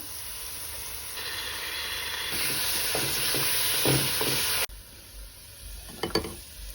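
Chopped garlic and ginger, added along with green chillies and coriander leaves, sizzle steadily in hot oil for a biryani. The frying hiss is loud and close and is broken by stirring scrapes. It drops suddenly partway through, then a few sharp clatters follow.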